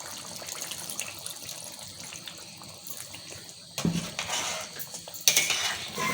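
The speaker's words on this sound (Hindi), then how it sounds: "मैं इतना इसमें पानी डालूंगी" Water poured into a cooking pot while making kofta gravy, a running splash that starts abruptly near the middle and grows louder, with light metallic clinks of the pot over a quiet kitchen background.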